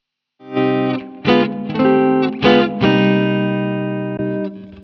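A heavily distorted electric guitar through a TONE X amp plugin plays a series of low, growly chords and notes, each ringing out with a buzzy, saturated tone.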